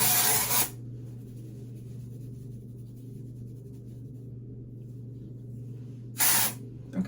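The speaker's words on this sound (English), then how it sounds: "You don't need any more dry shampoo" Dry shampoo sprayed onto hair in two short aerosol hisses, one at the start and one near the end, with a low steady hum between and no talk.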